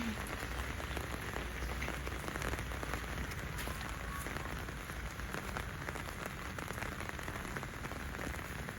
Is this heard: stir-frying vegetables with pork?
no